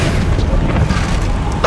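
A Bombarda blasting spell explodes in Hogwarts Legacy, a dense, sustained booming roar with heavy low rumble that stays loud and continuous through the moment of combat.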